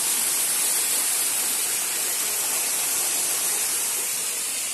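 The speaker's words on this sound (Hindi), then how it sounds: "ये देख सकते हैं आप कितना ही प्यारा कुंड में पानी आता हुआ।" Water pours into a pond inside the Khodra Mahadev cave shrine near Mhow, making a dense, loud, constant hiss like a small waterfall with no pauses.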